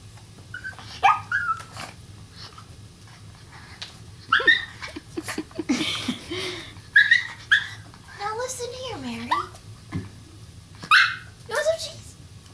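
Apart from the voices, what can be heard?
small dog whimpering and barking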